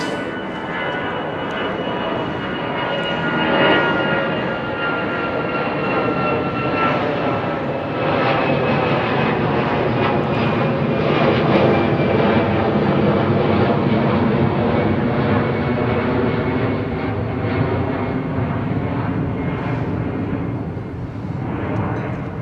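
An Embraer airliner's engines roar loudly and steadily at Heathrow Airport, a sustained broad jet drone with a faint whining tone that swells slightly midway and holds for over twenty seconds.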